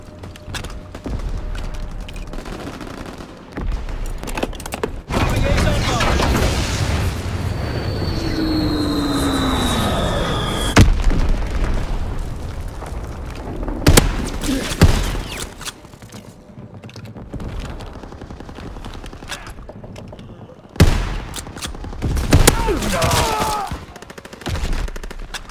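Artillery barrage and gunfire in the WW2 video game Resistance WW2: heavy continuous rumbling blasts and booms with a whistling incoming shell and a passing aircraft, loud and dense throughout.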